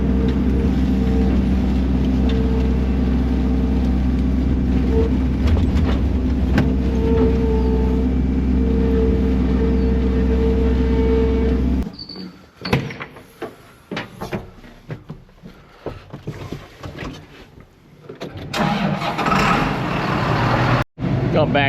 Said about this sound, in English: We're gonna have to take it easier on this tractor.